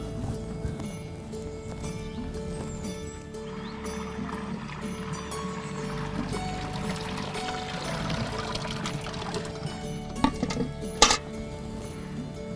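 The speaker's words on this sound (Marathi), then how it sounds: "हे शेण आणि पाणी चांगलं एकजीव करून घ्यायचं" Cow dung and water being poured and churned together for a gobar biogas plant, a steady wet sloshing and splashing that runs throughout, with a few sharp clinks near the end.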